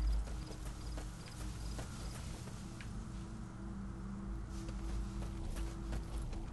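Horse hooves clip-clopping in Metal Gear Solid V: The Phantom Pain, a steady walking rhythm of soft hoofbeats over a low ambient hum, with no talking.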